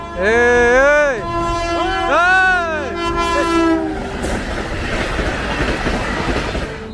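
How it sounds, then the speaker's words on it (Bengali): A train at a railway crossing sounds two long, loud horn blasts, then passes close by with a heavy rumbling roar of wheels and cars. "ট্রেনকে হালকাভাবে নেবেন না, এক সেকেন্ডে সবকিছু ওলটপালট করে দিতে পারে।"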